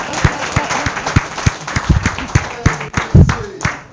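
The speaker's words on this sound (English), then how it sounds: "And a big round of applause for Snazzy Shoe Man." A meeting crowd in Austin, Texas claps for an introduced attendee, scattered, uneven claps from a modest group, fairly close and loud, with some low voices mixed under the clapping.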